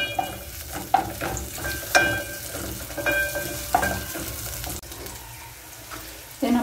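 Onion fries in a pot for pilau in a home kitchen, a steady sizzle with occasional stirring knocks and clinks, and running water from a tap mixed in, no talking.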